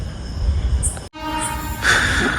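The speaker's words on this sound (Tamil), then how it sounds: "ஹண்டர்ஸ் ட்ரெயின் வந்துச்சு ஹண்டர்ஸ் ஒரு வழியாக." A train pulls in, with a steady low rumble, a brief break, then bright metallic squeal and brake hiss rising near the end, fairly loud and close at the platform.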